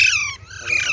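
A young Alexandrine parakeet chick gives two sharp, shrill squawks close up, separated by a brief dip, loud against a quiet room.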